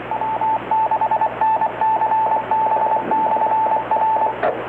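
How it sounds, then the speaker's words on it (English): Over-the-air radio transmission ending in a Roger beep: a loud, steady tone broken into rapid repeating beep bursts on top of a constant hum. "Oh, that's a heck of a Roger beep."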